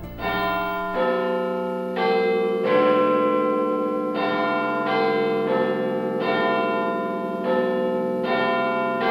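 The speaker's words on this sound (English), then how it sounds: "The bell tolls the hour on the tower's enormous clock" Big Ben, the 13.5-ton bell of the Clock Tower at the Houses of Parliament in London, tolls the hour with deep, ringing strikes about every second or so, each overlapping the lingering hum of the one before.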